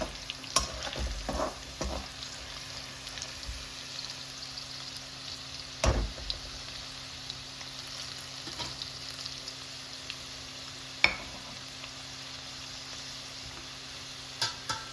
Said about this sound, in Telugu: మంచిగా వేయించుకోవాలి గైస్, స్మెల్ వస్తుంది కదా